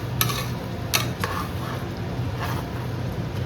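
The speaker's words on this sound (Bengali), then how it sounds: "এটাকে জাস্ট আমি একটু ভালো করে নাড়িয়ে নিচ্ছি" Chicken with spices being stirred in a pan, sharp scraping clinks of a utensil against metal over a soft continuous sizzle, close and fairly loud.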